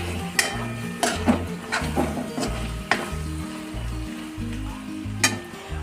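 Cooked dry mutton is mixed in a pan, with repeated scraping stir strokes and clanks over a soft residual sizzle, close and steady for several seconds.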